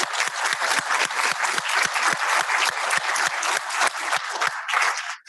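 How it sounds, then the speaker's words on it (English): Conference audience applauding the organizers at a medical innovation day, a fairly sparse but steady run of individual claps in a rhythmic patter, close and loud, fading out at the end. "could we applaud our organizers"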